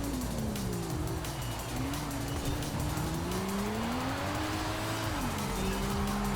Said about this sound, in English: That drift actually helped us there, which is strange.